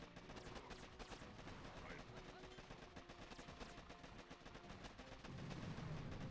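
Small cannons fire during a base attack in the mobile strategy game Boom Beach, a dense, continuous barrage of rapid shots and impacts that stays busy and fairly loud throughout, with a heavier low rumble near the end.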